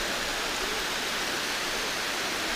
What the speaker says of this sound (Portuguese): E ali em cima já é a próxima cachoeira